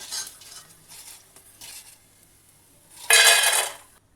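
Fried edible gum (gond) is lifted out of hot oil with a ladle, giving soft intermittent scraping and stirring clatter and then a loud, dense sizzling burst near the end, with no talking.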